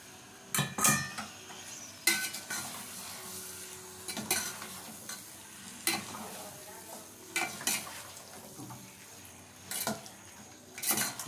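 Chicken for Mughlai biryani is stirred in a pot, with repeated scraping and clanking strokes of a spoon against metal every second or so over a faint, steady sizzle.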